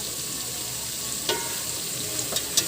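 String beans (sitaw) sauté in a pan with chicken, sizzling steadily and softly throughout, with a few faint clinks of stirring near the end.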